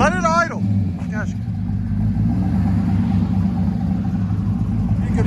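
A cammed 2011 Chevy Silverado 5.3L V8 with a Vibrant bottle resonator exhaust idles with a loud, steady, lumpy low rumble, while a voice speaks briefly over it at the start.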